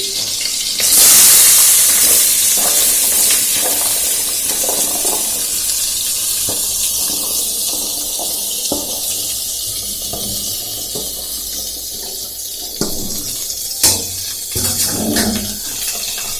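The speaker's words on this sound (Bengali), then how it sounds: "এরপর এখানে এই যে ডুমো ডুমো করে আলু আর ঝিঙে কেটে রেখেছি, এগুলো দিয়ে দিচ্ছি" Diced potato and ridge gourd tipped into hot oil tempered with a split green chilli burst into a loud close hiss. The sizzle then settles into a steady frying crackle with occasional clatters, and no one talks.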